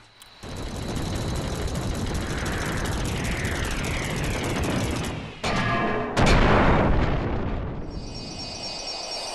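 The Guard Armor boss in Kingdom Hearts being destroyed: a long loud roaring rumble of explosion-like noise, broken by a brief dip before a sharper blast, then fading into a ringing tail, no voices.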